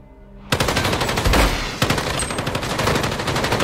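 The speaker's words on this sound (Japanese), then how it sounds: "銃声もさ、これまでの COD となんか全然違くない？" Rapid automatic gunfire from Call of Duty: Modern Warfare erupts suddenly, rattling continuously at close range with a few heavier shots standing out in the burst.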